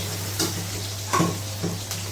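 Onion sizzles in hot oil as a tempering base in a Konkani-style fish curry, a steady close frying hiss with a few soft stirring scrapes and a constant low hum beneath.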